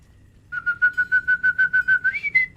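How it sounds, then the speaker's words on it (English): A person whistles upstairs at night to call a dog, giving a quick run of about ten short, even, bright whistle pulses and finishing with a slightly higher rising note, close and clear over quiet background. "So let me whistle upstairs."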